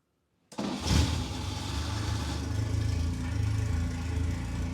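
A loud car engine without a muffler starts and settles into a rough, throaty idle around 1,000 RPM, droning steadily and close by with no talking.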